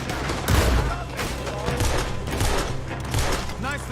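Gunfire fills the Red Dead Redemption 2 game scene, with loud repeated shots and booms in a busy, sustained exchange that runs under talking voices.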